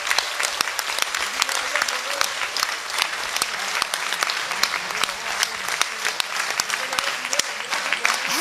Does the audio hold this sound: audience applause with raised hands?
yes